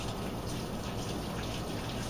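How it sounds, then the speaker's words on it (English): Tap water runs steadily as hands are rinsed at a kitchen sink during Christmas sugar cookie baking, a continuous close splashing flow with no talk. "I want to rinse my hands real quickly."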